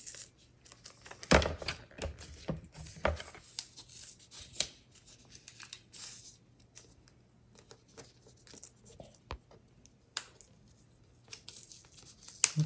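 Die-cut paper being slowly peeled off a very sticky grid sheet, a dry, intermittent crackle and soft tearing close by, with a few sharper rips early on and quieter rustling after.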